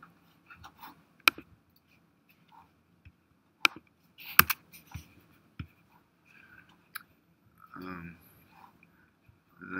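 Sparse keystrokes tap on a computer keyboard during a statistics lecture, faint and irregular, with quiet gaps between short clusters of clicks.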